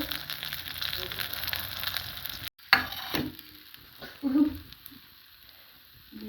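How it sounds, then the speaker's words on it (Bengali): Bata fish frying in a pan gives a steady, close hiss of hot oil that cuts off briefly, then returns more thinly, with a few soft crackles and clatters. "বাটা মাছ এনেছে, বাটা মাছ ভাজা হচ্ছে"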